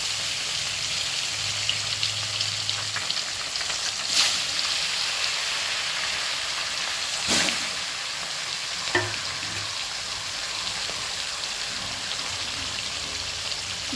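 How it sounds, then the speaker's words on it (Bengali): Tilapia pieces rubbed with salt and turmeric fry in hot oil in a wok, giving a steady, fairly loud crackling sizzle throughout, with a few sharper pops and spits along the way. "তেলে এবার মাছগুলোকে এক এক ছেড়ে দিচ্ছি।"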